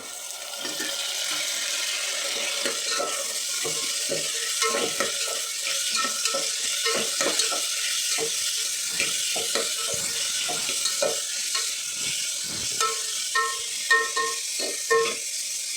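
Vegetables for a simple saagu side dish fry and sizzle steadily in a pan, with a continuous hiss broken by repeated scraping stirs of a spoon throughout, close and fairly loud with no talking.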